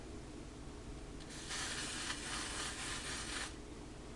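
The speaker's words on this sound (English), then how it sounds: "spray the bottom" A spray bottle hisses steadily for about two seconds onto the bottom of a handmade bird's nest, close and fairly quiet, with faint handling sounds before it.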